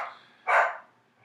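A single dog bark or yip heard close during a live talk show, one short burst alone after a fading earlier sound, with no talk over it.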